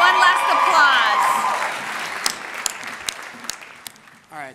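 Audience applause for one last round at a Mr. Pelican pageant event, a loud dense burst of clapping with cheering that fades into scattered individual claps before a voice briefly cuts in at the end.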